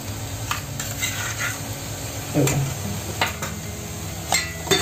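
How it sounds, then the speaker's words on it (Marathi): Ground masala paste cooking with onion and tomato in a pan, with a steady low sizzle and intermittent stirring scrapes and clinks of a utensil against the pan, close and moderately loud. "हे चांगलं ह्या कांदा टोमॅटोबरोबर आपण हे वाटण शिजवून घ्यायचं"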